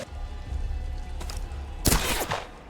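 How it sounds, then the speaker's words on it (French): A single gunshot goes off in Tomb Raider 2014, a sharp loud blast with a short ringing tail that rises out of a low rumbling game background. "j'ai tiré au gun"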